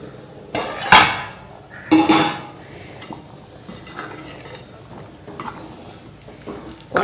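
A lid goes onto a pot of Kerala chickpea and potato curry with a couple of sharp metallic clanks close by, followed by softer scraping and rattling of cookware.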